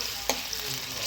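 Chopped onion frying in hot oil for chicken curry, a steady sizzle with a soft clink of a utensil near the start, close and fairly quiet with no talking.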